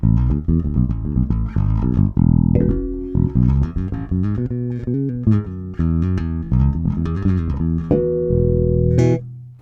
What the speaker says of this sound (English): Let's have the bridge pickup in series and the neck pickup in single coil.